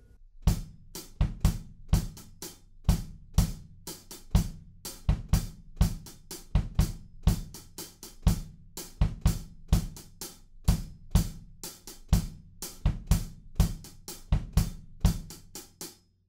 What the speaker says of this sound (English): So anyway, the kick drum with the hand clap pattern sounds like this.